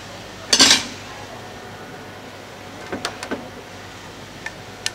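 Metal Bajaj engine parts clink and clatter during reassembly: one loud metallic clank near the start, then a few lighter taps and ticks spaced apart in a quiet room.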